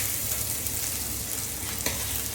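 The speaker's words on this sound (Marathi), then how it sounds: "त्याच्यात घालूया कांदा" Onion fries in a pan with bay leaf, cinnamon, black cardamom and cloves for mutton yakhni pulao, a steady close sizzle with occasional spatula scrapes and no voices.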